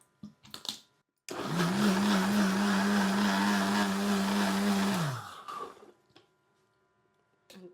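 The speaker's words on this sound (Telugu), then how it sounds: "కొంచెం వేసి మిక్సీ పడదాం" A kitchen mixer grinder whirs loudly for about four seconds as it blends juice with a spoonful of Horlicks, starting abruptly and cutting off sharply, with a few soft clicks and handling noises before and after.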